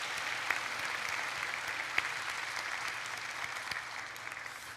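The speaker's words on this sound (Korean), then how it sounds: "우리 찬양팀에도 격려의 박수 부탁을 드리겠습니다" A church congregation applauds the worship team at a Sunday Easter service, steady dense clapping from a large crowd filling the room evenly from start to finish.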